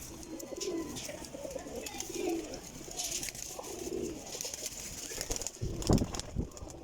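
Pigeons coo softly and repeatedly in a loft, low rolling calls at a moderate distance, with occasional wing flaps and faint background noise.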